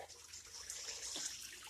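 Water flows quietly and steadily into a container being filled, a faint gurgling splash with a brighter rush toward the end.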